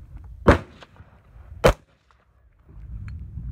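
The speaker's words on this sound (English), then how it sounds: "let me take this can off to do unsuppressed real quick." .223 rifle fired without a suppressor outdoors: two sharp, loud gunshot cracks about a second apart, each a short broadband blast with brief decay, followed by quieter rustling and background noise.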